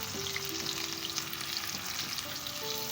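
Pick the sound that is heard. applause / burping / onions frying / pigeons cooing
onions frying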